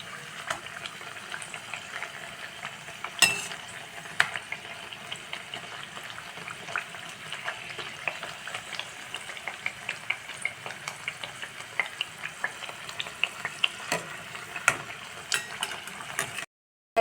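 Peanut oil deep-fries in a pan with a soft, steady sizzle and scattered crackles and stirring scrapes, close by and with no voices.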